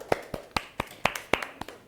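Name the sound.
applause from classmates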